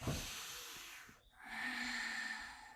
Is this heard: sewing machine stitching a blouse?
no